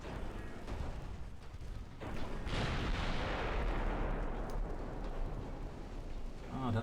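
Naval secondary guns firing at a cruiser in Ultimate Admiral Dreadnoughts, a dense rolling rumble of booms and blasts swelling midway, with someone talking over it.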